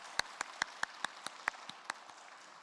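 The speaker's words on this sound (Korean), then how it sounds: "우리 큰 박수로 축복의 박수 보내드리겠습니다" A church congregation applauding in a worship service, heard as a faint, sparse, rhythmic clapping with about ten distinct, evenly spaced claps over soft background noise.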